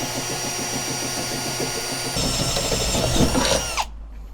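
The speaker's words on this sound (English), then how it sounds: "grab your drill as well as your 3/8 drill bit and use the pre-existing holes as a guide and start drilling through" A power drill fitted with a 3/8 bit bores steadily through a Toyota Tacoma truck bed while fitting a bed stiffener. The loud, continuous whine shifts pitch partway through as the bit bites, then cuts off abruptly near the end.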